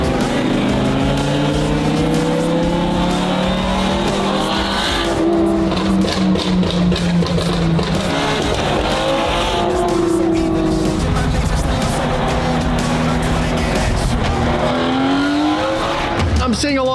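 A loud Lamborghini Huracan Evo engine roars and revs through gear changes, pitch rising and dropping repeatedly as it drives hard, with occasional talk underneath.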